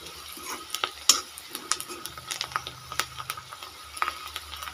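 Turmeric powder and spices sizzling in hot tempering oil for vermicelli khichdi, a soft steady crackle with a spoon clinking and scraping against the pan in scattered taps.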